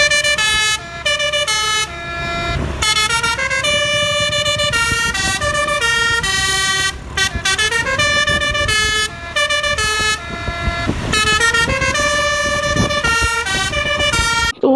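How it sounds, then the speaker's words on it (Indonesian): A Subur Jaya bus goes by with a loud, melodic multi-tone horn playing a long run of rising and falling notes, close and continuous with brief breaks, over a low engine rumble. "yang ini ada bus Subur Jaya teman-teman."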